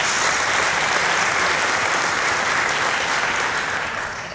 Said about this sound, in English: Round of applause for Mr. Ramaphosa.